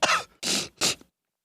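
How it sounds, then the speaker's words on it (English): Three loud, harsh coughs in quick succession, close by, the last one ending with a small catch, then silence. "I got to cough real quick."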